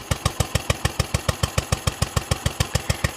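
A motorcycle engine, its carburettor mixture screw freshly adjusted, idles nearby with an even, steady thump of regular firing pulses and no voices over it.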